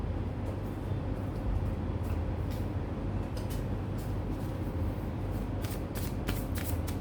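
Oracle cards are shuffled by hand indoors, giving a soft, continuous close-up riffling with sharper card flicks bunched toward the end and no talking.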